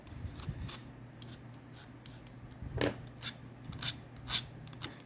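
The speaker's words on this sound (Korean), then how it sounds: "이 가위갈기가 생각보다 쉽지는 않습니다" Scissors being sharpened with a cheap 2,000-won Daiso file, a string of short scraping strokes and metallic snips, close and fairly quiet, irregularly spaced over a faint low hum, no talk.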